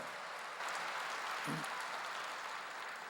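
A church congregation at a Wednesday worship service claps together in a steady, soft wash of applause, a low voice briefly surfacing partway through.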